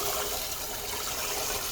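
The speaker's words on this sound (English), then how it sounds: "now I'm splashing the stuff everywhere" Water runs and splashes steadily while rinsing Easy-Off cleaner off a grease-caked surface, a continuous close gush with no breaks.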